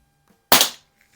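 A single sharp, close pop from a Smith & Wesson 79G revolver-style air pistol fitted with an 8-inch barrel, decaying quickly into quiet, with no speech.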